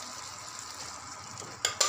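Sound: dalia khichdi cooking in a frying pan

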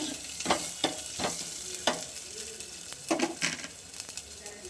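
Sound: tempering sizzling in pan for rasam, asafoetida added

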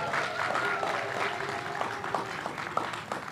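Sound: audience applause

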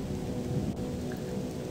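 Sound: rain and thunder in a video game

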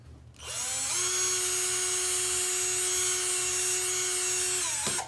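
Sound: drill enlarging hole in belt

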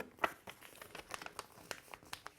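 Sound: folding paper to make a CD envelope

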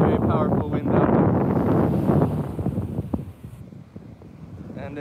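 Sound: strong wind blowing into the microphone at the sea

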